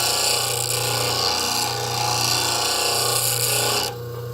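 A woodworking blade is pressed against a spinning grinding wheel, giving a harsh, continuous rasping grind over the motor's low hum until the steel is lifted away near the end.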